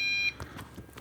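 Short high tonal beep from a JJRC JJPRO drone controller, a bright steady tone lasting a fraction of a second before cutting off, followed by quiet handling noise.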